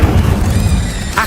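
A fire spell cast in a Harry Potter game bursts out as a dense, rumbling whoosh that fills the whole moment, loud and close, ending with a brighter flare.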